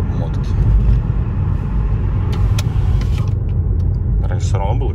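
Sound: Mazda CX-5 exhaust running after heat-wrap repair

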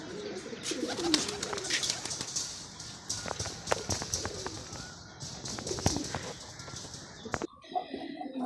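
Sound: pigeons cooing

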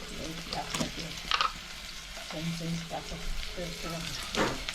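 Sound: garlic sizzling in hot oil

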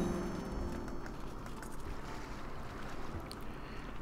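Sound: ship sailing sound in video game Crusader Kings 2

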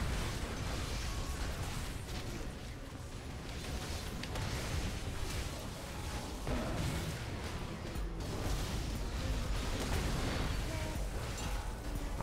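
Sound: explosion in League of Legends video game

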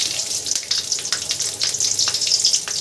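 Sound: black cumin seeds and slit green chillies sizzling in hot oil

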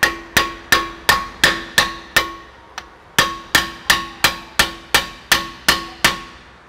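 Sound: impact wrench used on handbrake

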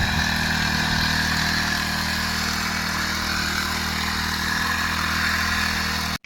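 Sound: petrol-engine crop sprayer pump running

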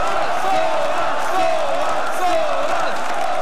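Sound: esports crowd cheering at League of Legends Worlds 2015

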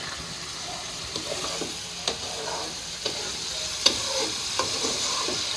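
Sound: fish frying in oil, oil splattering

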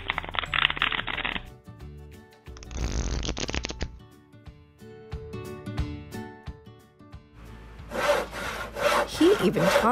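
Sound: sound effect of sawing

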